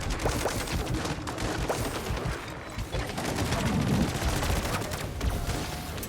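Sustained automatic fire from sentry guns in MW3 Zombies, a dense, continuous rattle of shots with booming low-end layered throughout, loud and close with no break.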